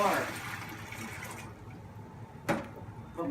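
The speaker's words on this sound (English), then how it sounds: "I'm going to add my water" Water pours from a container into a bucket for a DIY camp sink, a close, splashing gush that tapers off, followed by a sharp knock; no voices are heard.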